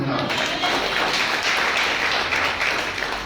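Worshippers at a Hindi-language church service clap together in a thick, continuous patter of many hands, with talk mixed in.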